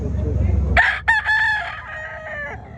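A rooster crows loudly nearby at a gamecock expo in a public market in Cebu City, one long drawn-out call that rises and trails off, following a stretch of low rumbling background noise.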